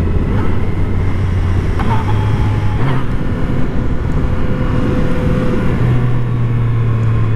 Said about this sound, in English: Those weren't even my best downshifts, and she sucked them up just fine.